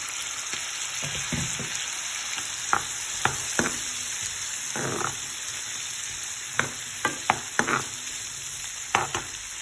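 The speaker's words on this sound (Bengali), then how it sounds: "এখন আমি সিদ্ধ আলুটারে দিলাম।" Boiled potatoes frying in a pan while making chana, with a steady hiss and several sharp clacks of a utensil stirring against the pan.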